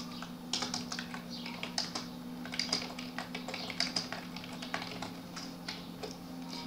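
Rapid, uneven clatter of keys on a computer keyboard as code is typed, close and continuous in short bursts, with a low steady hum underneath.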